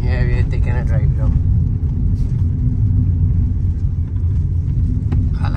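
A car drives down a road near the Coura River in Trinidad, its steady low engine rumble and tyre roar filling the cabin while people talk over it.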